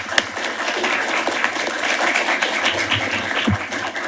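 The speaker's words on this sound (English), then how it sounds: "I hope you'll join me in a round of applause." Audience at a conference panel on ending sexual violence in conflict giving applause, a dense, steady patter of many hands heard at a moderate distance, with a brief low thump near the end.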